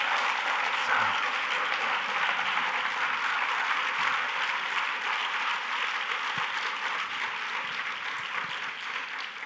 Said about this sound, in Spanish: Eskerrik asko, Mikel, porque no te hemos aplaudido y yo creo que te lo mereces.